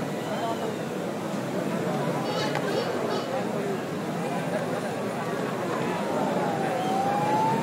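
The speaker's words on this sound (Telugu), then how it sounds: "దయచేసి అంబులెన్స్ కి దారి వస్తున్నారు." An ambulance siren wails through a dense festival procession crowd at the Khairatabad Ganesh immersion parade, its rising tone half-buried in a constant roar of crowd noise and chatter.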